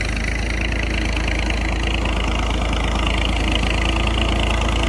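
A tractor idles out in farm fields with a constant deep chugging throb close by, its steady mechanical drone holding the whole time with no talk.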